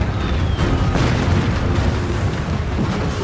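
Naval cannon shells bursting during the sinking of the German battleship Bismarck in May 1941, a dense, continuous rumbling roar of distant explosions with no clear separate blasts.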